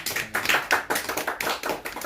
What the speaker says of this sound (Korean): 목사님께 한, 뭐 적은 숫자지만 박수 한번 치겠습니다